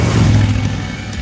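A Royal Enfield Interceptor 650 parallel-twin engine with 270-degree firing order rumbles nearby with an uneven, throbbing idle that settles slightly toward the end.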